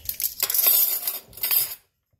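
Metal spoons set down on a table clink and rattle brightly at close range in two short bursts, then stop, with no talking.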